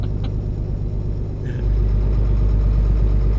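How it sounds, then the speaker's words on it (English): Truck engine idling in Euro Truck Simulator 2 with the ProMods map, a steady low rumble that grows heavier partway through and holds at a loud, even drone with no talk over it. "Nice engine sound"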